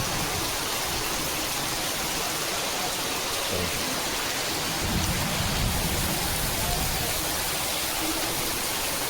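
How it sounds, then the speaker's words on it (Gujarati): Heavy rain pours down in a dense, constant roar during a thunderstorm, with a deeper rumbling surge of thunder partway through. "ફૂલ વરસાદ આવી રહ્યો છે તમને દેખાડું જો"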